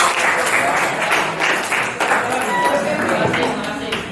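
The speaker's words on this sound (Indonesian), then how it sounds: "Tepuk tangan untuk kalian semua." Classroom of students applauding together, a steady dense wash of clapping filling the room throughout, with voices mixed in under it.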